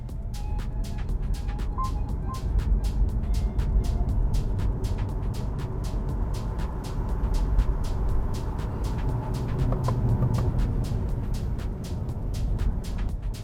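A GWM ORA Good Cat electric car accelerates hard from a standstill in sport mode, with steady low road and drivetrain rumble inside the cabin and a faint rising whine, no voices.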